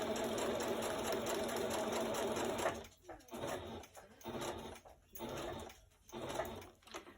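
A sewing machine stitches a junk journal pocket at home, running in a steady continuous whir at first, then in short stop-start bursts, close and moderately loud.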